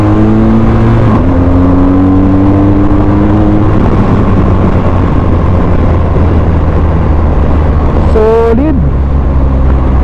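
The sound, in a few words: 2023 BMW R 1250 GS Trophy motorcycle engine riding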